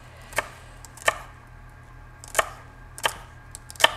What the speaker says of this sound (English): then I'm gonna add to the pot some finely chopped up celery. I'm gonna cut it lengthwise so it's even smaller.